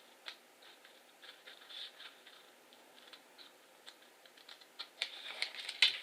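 Scissors snipping paper during papercraft, a series of quick faint close clicks and snips, irregular and sparse at first then denser and louder toward the end.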